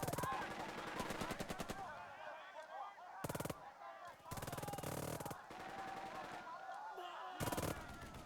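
Gunfire from the World War II tactics video game Burden of Command comes in several sharp, rapid machine-gun bursts, separated by gaps of fainter crackling combat ambience.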